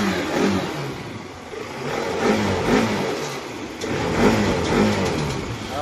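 A repaired scooter engine runs steadily close by, its mid-pitched drone rising and falling in several revving surges over the idle.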